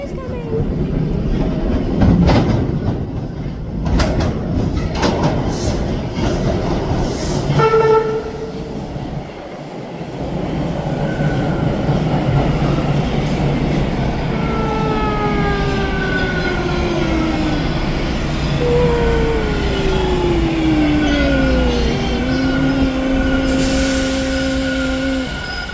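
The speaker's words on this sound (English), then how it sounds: "the train's coming" A Toronto TTC Line 2 subway train arrives at Islington station, rumbling loudly and building, with screeching and whining brake tones as it slows, while people talk nearby.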